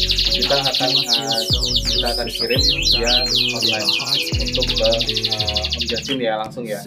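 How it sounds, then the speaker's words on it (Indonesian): Caged birds chirp and trill loudly and continuously at close range, with dense overlapping calls, while someone talks over them. "Ini ada burung ya di belakang saya."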